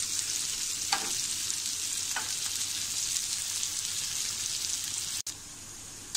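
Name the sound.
pomfret fish frying in a pan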